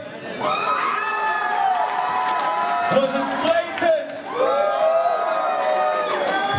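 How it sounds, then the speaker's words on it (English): Fight fans at a WXC 47 MMA event cheer and clap while judges tally scores, a loud arena roar with whoops, and an announcer's amplified voice speaking over the crowd. "just about a round of applause while we're waiting"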